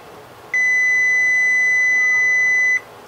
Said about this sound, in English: I'm going to probe each side of it and see if I have some continuity.